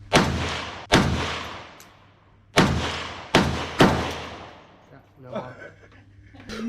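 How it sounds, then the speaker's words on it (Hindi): Real AK-47 rounds are fired one at a time at a shooting range at the Cu Chi Tunnels in Vietnam. Five heavy booms each roll off into a long echo, and faint voices follow. "real gun with real bullets, वो भी AK-47"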